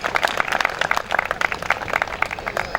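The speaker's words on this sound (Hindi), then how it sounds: "थोड़ा गर्मजोशी से तालियां बजाएं।" Applause from an audience at a National Voter's Day 2015 ceremony in India, a steady patter of many hands clapping at moderate volume for a few seconds, with no talk over it.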